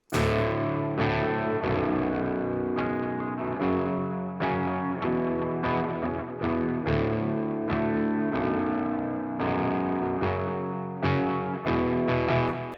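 Heavily distorted electric guitar through a Quad Cortex amp modeler plays chords and riffs from a song continuously, loud and close, with a saturated amp tone and no voices.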